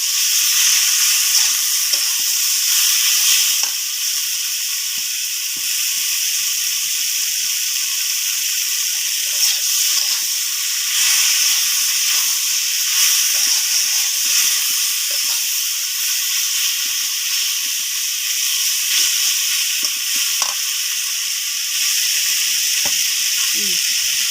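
Pieces of chalta (elephant apple) fry in hot oil with a bay leaf, giving a steady, loud, bright sizzling hiss that runs continuously with small crackles throughout.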